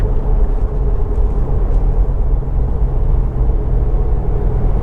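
A 2020 Subaru WRX engine while driving in traffic, a steady low rumble and drone heard from inside the car, loud and continuous with no talk.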